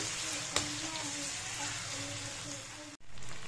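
Marinated chicken sautés in hot oil in a pan, making a continuous close sizzle with a sharp clink near the start and a brief dropout just before the end.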